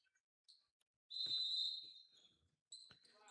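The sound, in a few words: referee whistle starting basketball game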